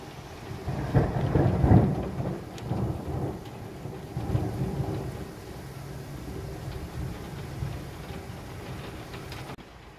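Heavy rain pours steadily through a summer evening thunderstorm, with a loud rumble of thunder early on and more distant rolls beneath the constant downpour; no one speaks.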